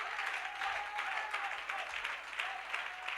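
Congregation applause during a French and English church service, a steady dense clapping of many hands throughout, with no voices on top.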